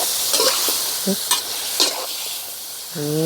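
Pork being stir-fried in a pan as a winter dish, giving soft scraping and stirring clatters with a low sizzle underneath, a few distinct utensil knocks, and a brief voice near the end.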